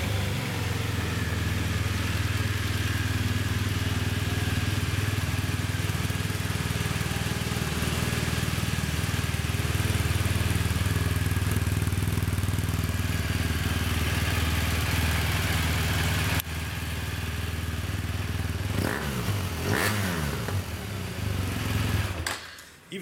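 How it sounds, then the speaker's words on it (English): A BMW R1200R motorcycle engine with stock exhaust rumbles steadily at idle, close by, then revs up sharply a few times near the end. "Even the stock exhaust has a really nice note to it."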